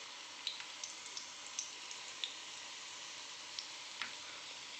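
Potato tikkis shallow frying in a pan give a soft, steady sizzle with scattered small pops and crackles, faint and close, with no voices.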